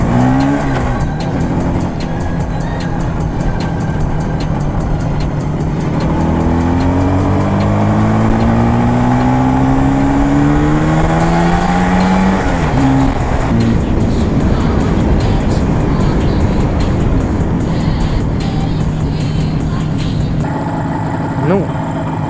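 An IZh Jupiter motorcycle engine runs loud and close while riding, its pitch climbing through a long acceleration and shifting between gears, with steady wind and road roar and bits of voice underneath.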